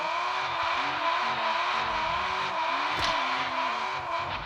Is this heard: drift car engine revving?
yes